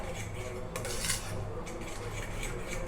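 A spoon mixing a salted cheese filling in a bowl, with continuous close scraping and rubbing of metal against the bowl and a few brighter clinks.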